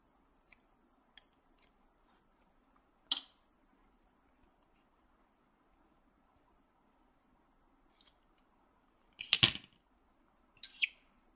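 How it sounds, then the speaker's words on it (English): A few isolated, crisp snips of scissors cutting rubber loom bands, sparse and quiet against a near-silent background, with a louder pair of cuts near the end. "Now, you're going to take your scissors"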